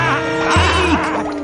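An animated character bleats like a sheep, a loud close wavering baa of about a second and a half, imitated by a voice.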